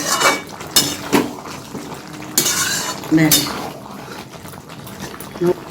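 Navratan korma being stirred in a pan after garam masala is added, with a few scraping clinks of a spoon against metal over a soft background, scattered and close.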